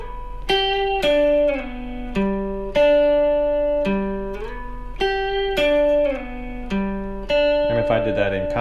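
A guitar triad is played as sustained chords that slide up and down the neck through its inversions, each chord ringing clearly before gliding into the next one, heard up close and alone.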